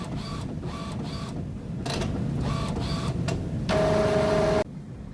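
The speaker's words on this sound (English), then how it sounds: "It's going to recognize the new cartridges that you put in the printer and then charge them." An Epson XP-640 inkjet printer charges newly installed ink cartridges, giving close, steady mechanical whirring and clicking in short pulses, then a louder rising hum with a tonal whine before it cuts off abruptly.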